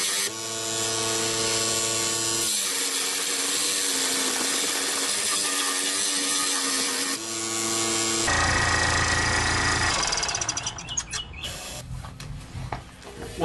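A saw cuts out a piece of wood with a loud, continuous grind. Its tone shifts partway through, then turns rougher and more uneven toward the end.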